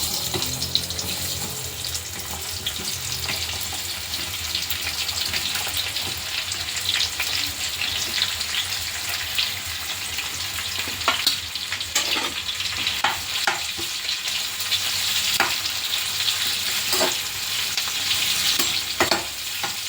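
Onions fry in hot oil in a pan for tomato chutney, giving a constant close crackling sizzle with occasional stirring knocks over the full stretch.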